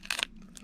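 Scissors snipping open a plastic bag of lock pins, with two quick close crisp cuts followed by a fainter rustle of plastic.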